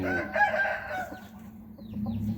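A fighting rooster crows once, a loud drawn-out call in the opening second, followed by quieter clucking and soft farmyard noise.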